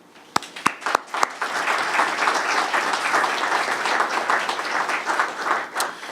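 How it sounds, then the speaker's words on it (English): Audience applause at a summer events press conference in Dunkirk, New York: a few sharp early claps swell into steady, dense clapping from a nearby crowd that holds evenly for several seconds. "So just a round of applause for our team."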